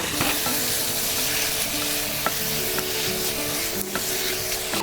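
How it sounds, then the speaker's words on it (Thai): Pork spare ribs stir-fried with garlic, pepper, coriander root and shallots in a hot pan, a steady dense sizzle with scattered scraping and clacking of the utensil against the pan, close and continuous, no voices. "ผัดให้ทุกอย่างหอมเข้ากันค่ะ ใส่ซี่โครงอ่อนหมูลงไปเลย"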